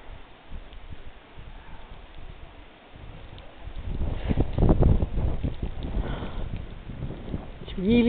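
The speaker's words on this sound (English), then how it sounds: "it's really cold, really windy." Strong wind during a heavy snowstorm in a front yard, gusting into the microphone as a low rumble, quieter at first and then swelling louder and steadier, with a person's voice faintly present.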